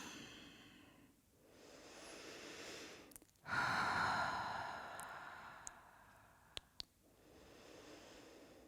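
After a yoga flow, a person nearby breathes heavily, with slow audible inhales and exhales, a loud gasping breath in the middle and a few faint clicks.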